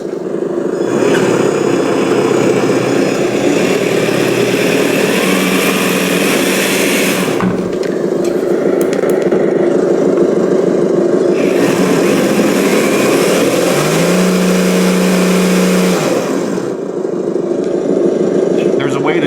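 Simulated truck engine from a Sense Innovations ESS Dual Plus sound module on a TRX-4 RC crawler, a steady loud synthetic rumble running throughout with shifts in pitch and tone, including a rising rev toward the end.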